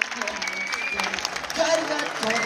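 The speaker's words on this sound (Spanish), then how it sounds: "Fuerte el aplauso para Jessica." Audience applause rises at a beer-week ambassador pageant in Paysandú, Uruguay, a steady crackle of clapping heard over a presenter's voice and background music.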